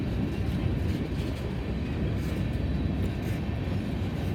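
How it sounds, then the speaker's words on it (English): A long Norfolk Southern freight train rolls past at a steady distance, a continuous rumbling wash of wheel and car noise with no breaks, heard alone. "This is quite a long train."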